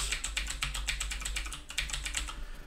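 Rapid typing on a computer keyboard during 6502 game programming: dense, uneven clatter of key clicks, close and steady throughout, with no voices.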